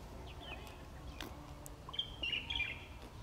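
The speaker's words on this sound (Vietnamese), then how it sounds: "chúng ta có thể nghe thấy cả tiếng chim hót luôn" Small birds sing in open fields around a temple of the Mạc dynasty: scattered short chirps and tweets, fairly faint and distant, over a quiet outdoor background, with no voices.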